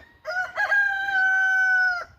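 A rooster crows once in a rural village yard, loud and close, a long sustained cock-a-doodle-doo call that holds steady before cutting off.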